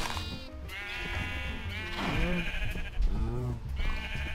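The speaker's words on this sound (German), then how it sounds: "Schaf." Sheep bleating in the video game Minecraft, several wavering bleats repeating close by over a low background, with no talk.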